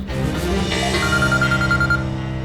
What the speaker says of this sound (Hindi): जगदीश का फोन है, रोहन के पीछे लगा रखा था।